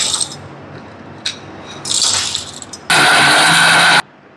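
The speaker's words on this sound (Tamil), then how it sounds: "இது அப்போ வந்து மிக்சியில் போட்டு பொடி பண்ண போகிறோம்" A mixer grinder pulverizes dried poonaikali seeds into powder, starting with a few short rattling pulses and then running in one loud, steady whirring roar of about a second before it cuts off.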